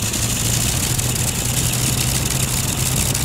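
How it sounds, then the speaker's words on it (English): A vintage aircraft rotary engine runs at an airfield, giving a loud, dense, steady drone that holds unbroken throughout, close to the microphone with no talking over it. "the engine has a really cool sound to it. Sounds like your typical rotary engine"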